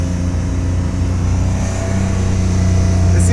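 BMW E30 with an S52 engine accelerating slowly with a slipping clutch, a loud, steady engine drone rising gently in pitch, heard from inside the car.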